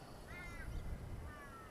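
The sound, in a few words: kookaburra calling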